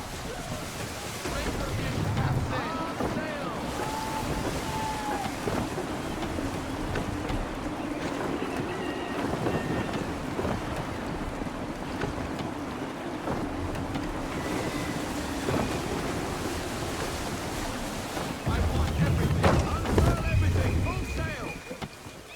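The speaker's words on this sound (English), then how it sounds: "Try her at full sail. Wind looks to be shifting." A sailing ship under full sail in Assassin's Creed III, with a steady roar of wind and rushing ocean water throughout, deeper surging swells near the end, and a faint voice in places.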